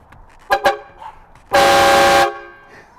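A train horn fitted to a Duramax truck and fed at 100 PSI blasts twice briefly, then gives one long, very loud, piercing tone at close range.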